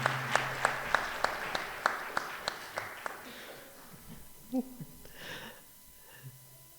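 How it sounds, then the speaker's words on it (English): A short burst of rhythmic clapping from a few people fades out after a few seconds, followed by quiet murmuring and a faint gasp. "Yuvir Manu, let us give them all a round of applause."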